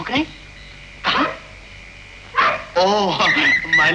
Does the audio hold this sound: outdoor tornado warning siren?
no